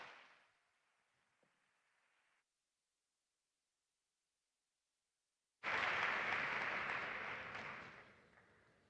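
Audience applause at the opening ceremony of the Erasmus Generation Meeting in Seville, 2024, bursting out loud after a stretch of near silence and holding as a dense wash before slowly tapering.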